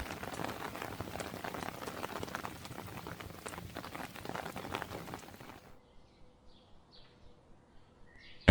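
Steady rain patters down in a forest, a dense close hiss of drops that fades out after about five seconds, leaving faint ticks and a sudden loud burst at the very end.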